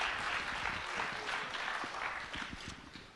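A conference audience gives a panel a quiet round of applause: dense, steady clapping from a distance that gradually fades.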